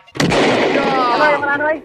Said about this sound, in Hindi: गोली चला